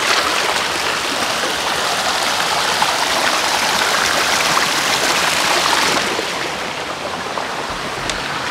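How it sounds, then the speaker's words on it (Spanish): A river runs over a sandy bed in a steady, loud, rushing wash of water that continues without a break and eases slightly toward the end. "Qué bonito se oye el sonido del agua"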